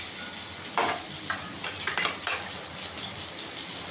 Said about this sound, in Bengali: চিংড়ি মাছটাও ভাজা হয়ে গেছে, তুলে নেবো।